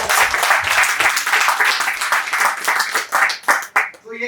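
Audience at a wellness business plan seminar clapping, a loud burst of dense applause that thins into a few scattered claps near the end.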